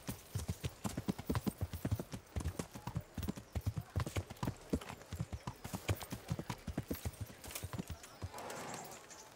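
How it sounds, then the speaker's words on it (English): Horse hooves clip-clop steadily at a riding pace in the medieval game Kingdom Come: Deliverance, a dense, even rhythm of close, loud hoofbeats that continues through the whole stretch, with a brief whinny near the end. "Ride for Rat-Eye"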